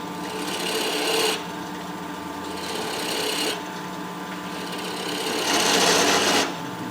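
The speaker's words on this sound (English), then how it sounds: "Let's go back to Mr. Bowl Gouge." A bowl gouge cuts a wooden vase on a lathe, making three long, steady rasping passes with short easier gaps between them over a constant motor hum.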